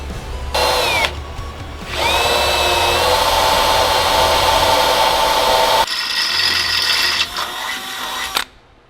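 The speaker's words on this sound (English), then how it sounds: "I'm going to drill the first hole right there" A power drill bores a hole for a Fox shock bracket on a Ford E-Series Class C motorhome, the motor whining loudly in several bursts with brief pauses and speed changes, nearby and without speech.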